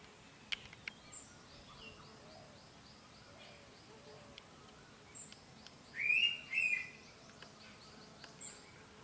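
Indian pitta birds call in a forest, sounding as a few short, clear whistled notes over soft chirps and insect hum, faint and somewhat distant, with one louder double call standing out.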